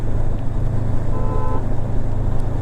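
A Honda NX500 motorcycle engine gives a steady, deep bass drone, heard from the rider's position, with a brief faint tone rising over the low rumble midway.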